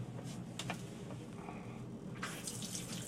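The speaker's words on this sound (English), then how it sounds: "Pressure water in here also." Pressurized water runs from a shower tap inside a camper, a steady close hiss with brief clicks and a louder splashing surge near the end, with no talk over it.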